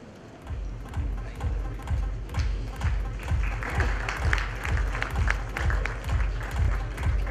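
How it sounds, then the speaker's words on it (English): At a NASSCOM GCC Conclave after a guest keynote, the audience applauds, a moderate round of clapping over a steady rhythmic low thumping. "a big round of applause for both these guys"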